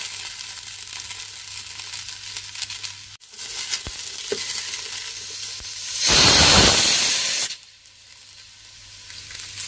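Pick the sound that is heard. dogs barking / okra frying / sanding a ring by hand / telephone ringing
okra frying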